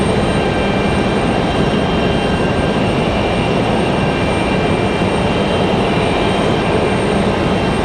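A Delta CRJ regional jet takes off at Raleigh-Durham International Airport with a loud, continuous broadband roar of engines at full thrust, sustained evenly throughout and heard alone without talk.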